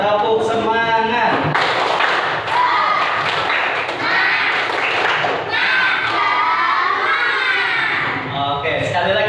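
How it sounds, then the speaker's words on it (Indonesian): A group of schoolchildren in a classroom joins in the rhythmic 'tepuk semangat' clap chant, with loud shouting, cheering and thumping claps that run continuously throughout. "1, 2, 3, tepuk semangat."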